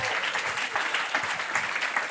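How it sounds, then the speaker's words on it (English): A live show audience claps in a brisk, even burst of applause that carries on steadily for a couple of seconds, fairly close and loud, with no voices over it. "You're applauding your own word as well."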